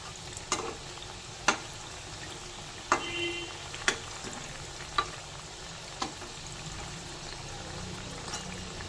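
Mung dal bhaja puli fry in oil with a quiet, steady sizzle, broken by occasional sharp clicks of a utensil against the pan; no talking.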